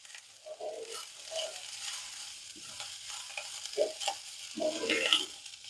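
Ivy gourd and green peas are stirred in a frying pan, with a spatula scraping and tossing the vegetables in several irregular strokes over a light, quiet sizzle, close up and with no voices.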